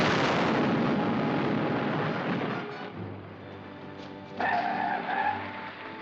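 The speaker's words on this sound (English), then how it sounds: "Wasn't that an explosion? Sounded like somebody blasting to me." A blast sound effect in an old Batman radio serial: a loud, broad rumbling burst fills the first seconds, then fades into a quieter low hum with a brief sharper flare near the end, no voices.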